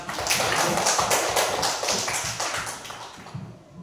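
A class of schoolchildren clapping together, a brisk, fairly close patter of many hands that holds steady and then tapers off.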